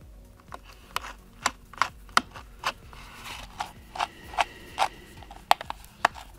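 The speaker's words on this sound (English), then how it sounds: "Next step, screw back the charging port screws." Small screws being driven back into an iPad charging port during a 6th–9th generation repair, heard as a series of sharp, close mechanical clicks and ratcheting ticks spaced irregularly over quiet background.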